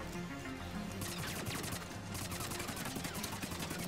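Rapid automatic gunfire from a fast-firing, inaccurate gun in Mass Effect 3, dense rattling bursts that stop briefly and resume, steady and continuous with faint background music.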